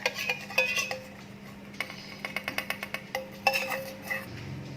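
Margarine stirred into cake batter ingredients in a bowl, giving quiet repeated clinks and scrapes of a utensil against the dish in irregular bursts, with no voices.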